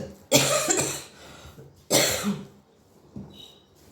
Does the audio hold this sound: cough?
yes